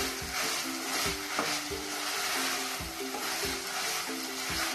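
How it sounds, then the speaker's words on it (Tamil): Chopped vegetables and beans sauté in a pan for wheat rava kichadi, a bright continuous sizzle with a spoon scraping and knocking in a regular stirring rhythm, close and alone. "இப்போ இது எல்லாத்தையும் நல்லா வதக்கிக்கலாம்."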